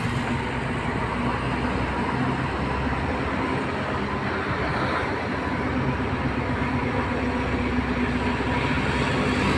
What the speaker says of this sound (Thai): เร่งเครื่องมาแล้วครับ